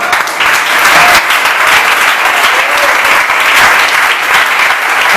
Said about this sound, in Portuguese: E aplauda Jesus